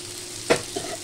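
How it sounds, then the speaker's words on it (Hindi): Sliced onions fry in a pan for pumpkin sabzi, giving a short hiss of sizzle with one sharp stir or scrape midway and a softer second touch, close and clear. "इसको भी अच्छे से फ्राई कर लेते हैं।"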